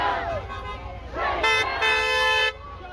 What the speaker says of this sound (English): We got a lot of people honking at us.